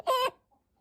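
A single short, bright cluck from a chicken in a horror video game, close and clear, followed by near silence.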